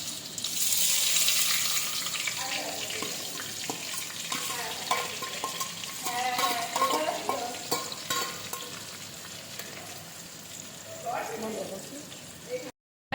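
Salt-and-turmeric-coated onions dropped into hot oil for biryani, a loud continuous sizzle with stirring scrapes, close by, softening slightly over time while a voice talks.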